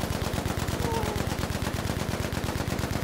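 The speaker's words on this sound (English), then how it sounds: "Oh, I'm being shot at." Rapid automatic gunfire in Battlefield 5, a loud, dense and evenly spaced stream of shots that continues without a break from start to finish.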